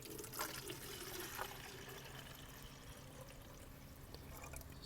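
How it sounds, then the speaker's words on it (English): Water pours steadily into a Foam King foamer tank for several seconds, a continuous close splashing rush with no talking. "Okay, so adding the water in."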